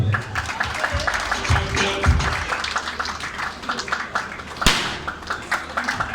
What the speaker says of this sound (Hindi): अपनी ट्रॉफी वसूल करेंगे शुएब खान साहब से, तालियां बजा दीजिएगा।